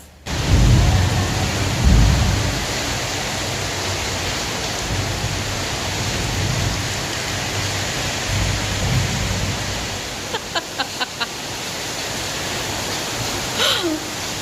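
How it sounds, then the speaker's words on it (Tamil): Heavy rain pours steadily as a dense, loud wash of noise with low rumbles early on and a few brief ticking sounds near the end. "எங்கள் ஊரில் செம்ம மழை ஃப்ரெண்ட்ஸ்"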